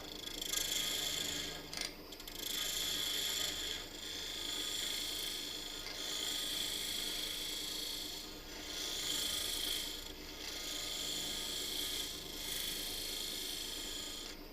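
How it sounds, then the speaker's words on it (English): A wood lathe spins an ornament blank while a tool rubs and rasps against the turning wood, a sustained whirring scrape that swells and eases in long passes, close and steady. "Crank the lathe speed up."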